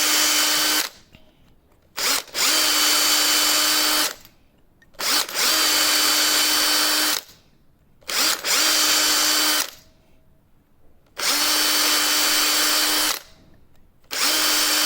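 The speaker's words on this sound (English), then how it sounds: "I'm trying to drill these as straight as possible." A power drill bores pinning holes in a Warlord Titan model in four long bursts, each several seconds, with short quiet pauses between; loud, close, steady whine with no talking.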